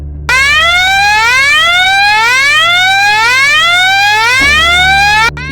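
An alarm sounds from a hospital X-ray room in an animated horror story, a loud wailing siren that rises and falls repeatedly, starting abruptly and cutting off sharply just before the end.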